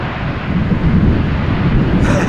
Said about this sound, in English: a little bit of reverser action there